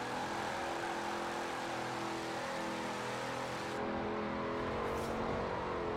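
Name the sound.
Ford Crown Victoria Police Interceptor power sliding, burning its tyres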